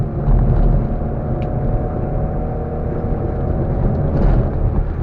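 A Rover Mini 30th Anniversary drives along with a steady, loud engine drone and road rumble from inside the cabin, holding an even level throughout without speech.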